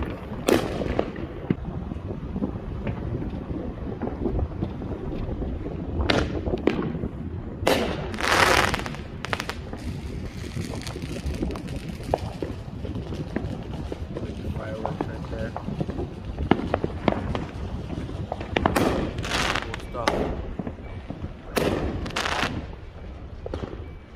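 Fourth of July fireworks going off around an Eastside Las Vegas neighborhood: scattered sharp bangs and crackling bursts, some close and loud, others distant, over a constant rumbling background with voices talking now and then.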